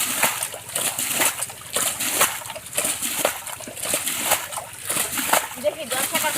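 Water draining out of a small village pond hole, splashing and sloshing in continuous pulsing bursts, close and fairly loud, with voices talking over it.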